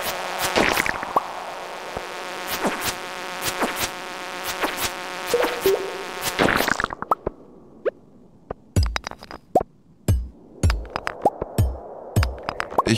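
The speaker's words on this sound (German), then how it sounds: "Diese Mücken oder Bienen oder was?" Insects buzz in the Stardew Valley mines, a steady droning hum with sharp clicks for about seven seconds, then it cuts out, leaving sparse plops and hits.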